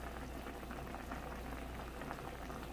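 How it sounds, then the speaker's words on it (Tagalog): Water with pasta in it boils in a pot, giving a dense, steady bubbling and rumbling roll close by, with no voices over it. "And guys, kumukulo na siya."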